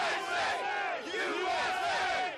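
Thousands of gun-rights protesters packed into the square and streets by the legislature in Richmond shout and chant together, a loud, surging crowd roar with rhythmic swells of massed voices.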